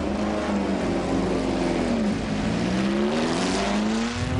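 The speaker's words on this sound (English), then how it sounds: "we're leaving the pit lane in this 1967 Lotus 49" A 1967 Lotus 49 Grand Prix racing car pulls out of the pit lane at Silverstone, its engine note rising and falling loud and close for the whole stretch, with a harsh, continuous roar and no talk over it.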